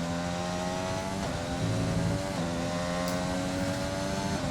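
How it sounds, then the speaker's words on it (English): Race car in a racing video game at a wet Silverstone circuit, the engine droning steadily with harmonic whine and brief shifts in pitch, moderately quiet and continuous with no talk. "as he revs up to start his first flying lap"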